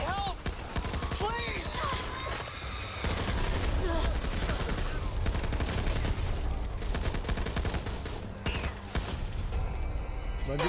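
Chaotic gunfire in the video game Back 4 Blood, rapid overlapping shots under a constant din of combat noise, with shouting voices mixed in.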